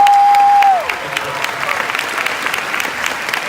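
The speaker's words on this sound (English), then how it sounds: "Big round of applause." Audience applause at a Scentsy Family Reunion event, starting after a steady tone fades out and continuing as dense, even clapping from a large crowd for the rest of the clip.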